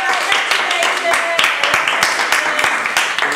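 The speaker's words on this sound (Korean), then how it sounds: "자 박수." Scattered clapping at a 2013 Christmas event, uneven and fairly close, with people talking and cheering over it for a few seconds.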